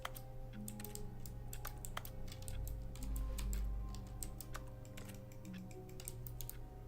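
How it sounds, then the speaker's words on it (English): Rapid, crisp clicking taps repeat throughout in a video game, a steady stream of light ticks over a low background hum with no talking. "Why does this make a clicking sound?"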